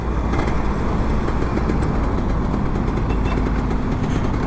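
Kawasaki Ninja RR 150 two-stroke sport motorcycle, freshly fully serviced, running with a steady loud engine drone close by, low rumble constant throughout with no voices.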